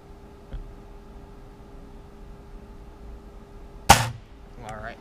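A single sharp air rifle shot cracks out at close range against quiet outdoor background, followed by a brief tail of mechanical rattle.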